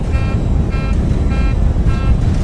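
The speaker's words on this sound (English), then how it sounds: "the GPWS sound alarm sounded, warning about the non-takeoff configuration of the aircraft" A repeating warning alarm in the cockpit of a Boeing 737 at takeoff, flagging the wrong takeoff configuration, pulsing tones over loud engine roar.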